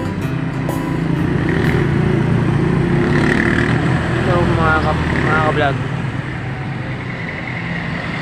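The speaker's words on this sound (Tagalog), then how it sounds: "ganyan ang karami dito mga ka-vlog yung mga sasakyan" Steady, busy road traffic of cars and motorcycles passing on a street in Subic, Zambales, a continuous engine rumble with a few horn-like tones, while someone talks over it.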